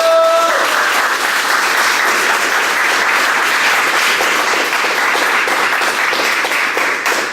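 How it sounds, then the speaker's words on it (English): An audience applauds a black belt at a candlelight martial arts ceremony, with dense, steady clapping that stays loud from start to finish. "Round of applause for our black belt."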